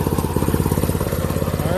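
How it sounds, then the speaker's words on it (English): A mini bike engine with its stock exhaust runs close by, a loud, fast, even putter of regular pulses throughout. "start this thing up with the stock exhaust on it and do a bit of a sound comparison"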